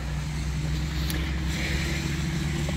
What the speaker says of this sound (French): Attendez, parce qu'il y a Marcel avec le tracteur